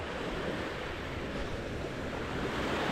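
Waves wash onto a beach at Tulum, a constant broadband roar of surf mixed with wind buffeting the microphone, steady and fairly loud with no voices.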